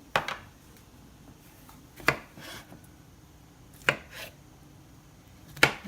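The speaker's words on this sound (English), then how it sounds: "And chop them up." A knife chops cored Roma tomatoes on a board, four sharp separate strikes a second or two apart, close and clear with no talk.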